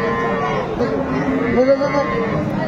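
A cow lows amid the bustle of a cattle market in Aftabganj where dairy cows and calves are sold; the moo rises briefly through constant crowd noise and nearby chatter.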